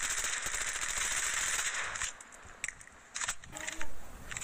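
An AK-47 in Call of Duty fires a fast, continuous automatic burst, then drops into a few scattered shots and clicks, moderately loud.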